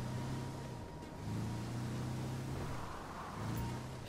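A vehicle engine drones steadily in GTA 5 Online, rising and falling slightly in pitch as it drives on, loud and continuous with no talking.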